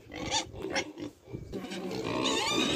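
Five young piglets on a pig farm grunt and squeal close by, with several overlapping bursts of rough, snorting calls that rise into a steadier mixed chorus toward the end.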